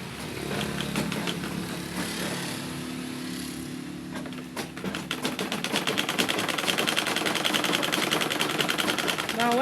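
A sewing machine stitches fabric for a side seam pocket on a dress, first humming quietly, then after a pause breaking into a loud, fast rhythmic clatter of the needle.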